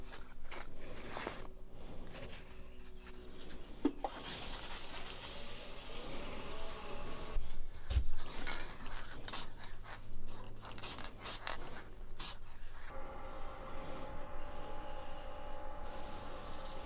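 Sandpaper of 600 grit rubs against a spinning turned wood piece on a lathe, a quiet continuous scratchy hiss with shifting pressure and a few soft knocks, with no talking.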